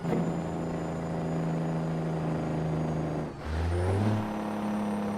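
An old truck engine in a driving video game drones with a steady, layered hum, then dips and shifts pitch as it downshifts while heading down a hill, before settling into a new lower growl.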